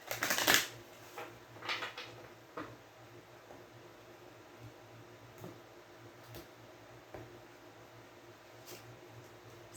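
Tarot cards are shuffled in quick, soft riffling bursts, with the loudest flurry at the start and quieter scattered flicks and taps after it, fairly close in a quiet room.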